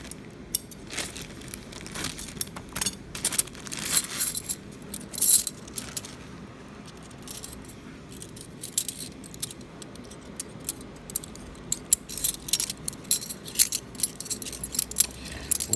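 Loose brass keys clink and jangle as they are handled and hung up, with repeated bright metallic rattles and small clatters close by, in varied bursts without speech.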